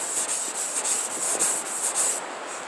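Sandpaper rubs along the edges of a wooden bow with a rawhide backing, a close, steady series of rasping strokes in a quick back-and-forth rhythm, with no voices.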